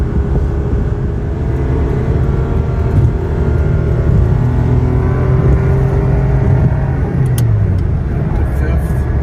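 A 1999 Ferrari 550 Maranello accelerates on the road, its engine a loud, steady drone with rising and shifting tones across gear changes, heard from inside the car while someone talks over it.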